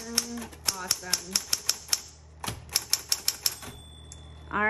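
Typing on a repainted 1960s Smith Corona Coronet manual typewriter: a quick run of crisp key strikes, a pause, then another burst of keystrokes and a carriage sound near the end, close and clear.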